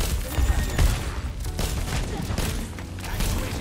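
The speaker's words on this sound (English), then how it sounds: "I'm just shooting toward the front" Dense gunfire and thumping impacts from an Overwatch 2 match, a continuous busy spray of shots with booms mixed in, with voices talking over the action.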